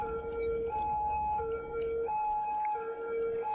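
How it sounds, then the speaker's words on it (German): Ambulance siren in the Cities: Skylines city-building game, a steady two-tone wail alternating high and low pitches, continuous and fairly loud over low background game noise. "Oh, der Krankenwagen nervt."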